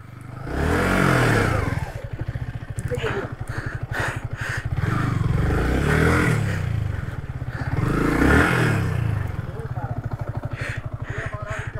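A motorcycle stuck off-road revs hard in three long surging bursts, the engine throbbing near and loud between them, while people shout and talk over it.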